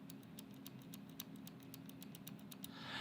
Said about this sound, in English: Left click.